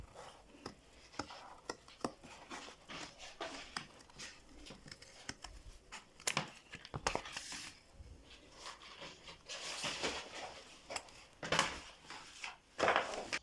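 Scissors cutting through cardboard for a handmade sandal insole, giving repeated crisp snips and rasping scrapes, close and irregular, with brief louder cuts near the end and no talking.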